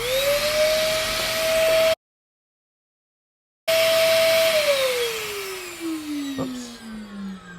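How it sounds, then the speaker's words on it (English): An ash vacuum cleaning a Quadra-Fire 1200-I pellet stove insert whines steadily, cuts out briefly, then restarts and slowly winds down in pitch, with a short knock near the end. "now I make some more noise with the ash vacuum"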